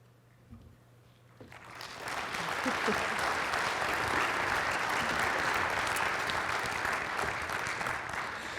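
An audience at a talent summit breaks into sustained applause welcoming panelists, starting after a brief quiet moment with a faint voice and holding loud and dense through the rest.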